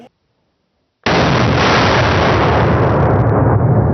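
After a second of silence, a huge, close blast from a very large-calibre gun at a shooting range erupts into a sustained roar of broadband noise that slowly fades.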